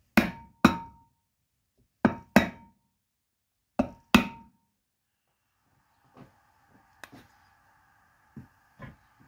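Sharp metallic hammer blows drive a front wheel bearing on a 2002 Nissan Pathfinder, coming in loud pairs with ringing decay, then quieter, duller knocks once it seats at the bottom.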